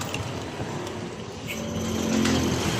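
A motorcycle engine with a CVT, just given an engine refresh and a cleaned throttle body, fires up and runs steadily, its hum building a little louder toward the end with no talking.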